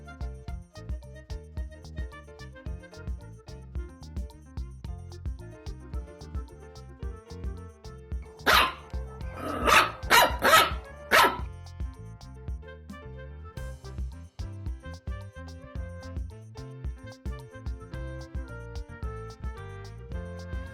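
A domestic dog barks about four quick, sharp times in a short cluster, standing out over light background music.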